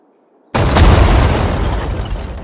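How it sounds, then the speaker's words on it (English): Artillery opens fire in Sudden Strike 4: after a brief hush comes a sudden loud blast that rolls into a sustained booming rumble and slowly fades, close and powerful. "Fire at the target! Artillery, fire!"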